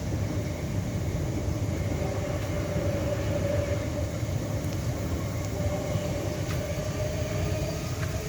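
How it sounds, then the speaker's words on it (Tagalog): A train rolls past a spot where bikes travel, its broad, steady rumble and rattle of wheels filling the whole stretch at close range with no one speaking. "Ayun na yung train."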